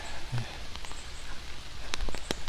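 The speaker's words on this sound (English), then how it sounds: "I'm sorry we have rain." Steady rain patters on surfaces at an outdoor historical village, a soft continuous hiss with a few sharper drip clicks, fairly close and moderately quiet.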